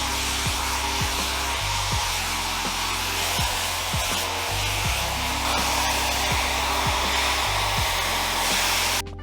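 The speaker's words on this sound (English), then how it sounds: "I'm gonna diffuse my hair now" A hair dryer fitted with a diffuser blows steadily while drying hair after flaxseed gel, a loud continuous whoosh with a motor hum that pulses and shifts slightly as the dryer moves, with no talking throughout.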